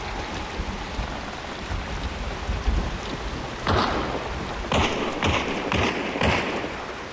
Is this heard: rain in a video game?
yes